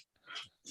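Dogs playing in the background make brief, faint growly yips and breathy play noises in short bursts.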